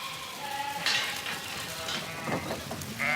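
A flock of about 200 ewes and lambs heads out to the salt meadows near Mont-Saint-Michel at low tide, with bleats rising over a steady outdoor hiss and scattered shuffling.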